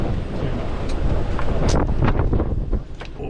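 Strong, gusty storm wind of about 60 knots roars across open sea off Porto Santo, whipping spray into mist, buffeting the microphone with rumbling bursts and hiss, no voices.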